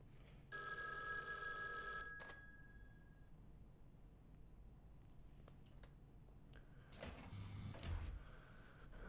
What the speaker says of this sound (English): Ah, a phone.